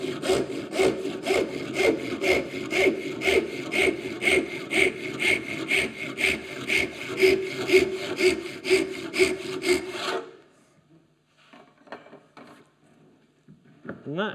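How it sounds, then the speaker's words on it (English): A handsaw cuts down a marked line in wood with steady back-and-forth strokes, close and loud for about ten seconds, then stops, leaving faint scraping and handling noises. "Just a handsaw. Saw down the line."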